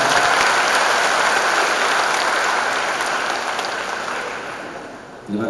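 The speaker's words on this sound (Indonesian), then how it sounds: "Kita beri tepuk tangan yang meriah." Loud, dense applause fills a university graduation ceremony hall as cum laude graduates stand, a steady roar of clapping that eases slightly before the end.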